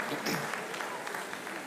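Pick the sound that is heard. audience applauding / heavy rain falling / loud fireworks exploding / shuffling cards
audience applauding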